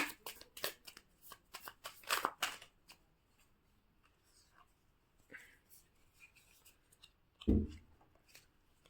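Tarot cards are shuffled and drawn: a quick series of crisp riffles and slaps fills the first few seconds, then soft handling, a brief rustle and a single dull thump. It is quiet and close by, with no talk.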